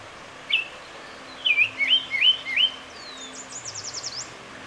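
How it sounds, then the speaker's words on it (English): Birds singing beside a stream in the Adirondack Mountains of New York: a few clear chirps, then a quick run of rising whistled notes and a fast trill, all set against a soft, steady rush of water. "Birds serenading you all day, and especially first thing in the morning at your alarm clock."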